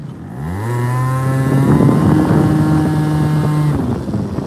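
A moped engine revs up from idle into a loud, steady, buzzing drone, with wind rushing past, then eases off near the end of the ride.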